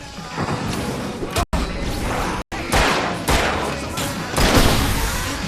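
Gunfire in the video game Alan Wake: loud, rapid bursts of shots and crashing impacts that continue for several seconds with brief gaps.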